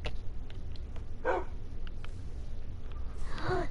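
A dog barks a few times, moderately close, with one burst near the start and another near the end over a background of low rumbling noise.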